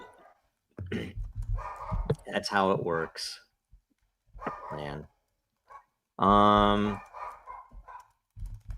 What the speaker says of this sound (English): Somebody's dog is Not mine this time.